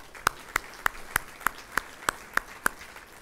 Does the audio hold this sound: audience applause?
yes